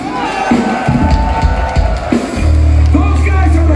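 A crowd at a punk rock concert in Santiago, Chile cheers and yells over loud music with a steady low bass, the noise swelling and staying dense throughout.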